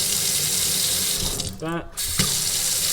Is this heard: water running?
yes